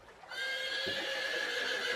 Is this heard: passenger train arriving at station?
no